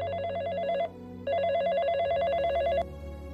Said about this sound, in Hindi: गीत का फोन है।